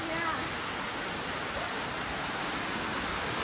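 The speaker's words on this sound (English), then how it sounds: "We're gonna go behind the waterfall, right?" Waterfall in Watkins Glen State Park, a steady broad rushing roar of falling water filling the whole stretch at even loudness, close by, with a faint voice briefly over it.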